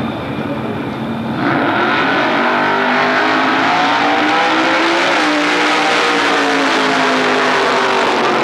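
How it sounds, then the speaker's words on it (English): An injected Chevy Camaro launches down the drag strip at Atlanta Dragway in Commerce, Georgia, during a 1999 NMCA event: a quiet lull, then a sudden, sustained, loud roaring engine that holds full volume as the car pulls away. "Injected Chevy Camaro on the Winston side of the track coming out"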